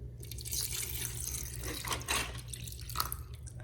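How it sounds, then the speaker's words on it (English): Water runs from a tap into a small jewelry cleaner container, a quiet, steady trickle with a few drips and splashes near the end. "we put some water in"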